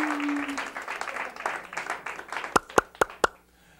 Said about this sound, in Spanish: Un aplauso para Lancelot y su chiste